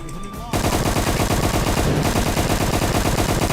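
Rapid automatic gunfire rattles nonstop in the Roblox game Darkdivers, loud and dense, starting suddenly after a quiet moment.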